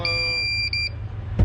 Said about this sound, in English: That's the alarm telling me I have to push the button.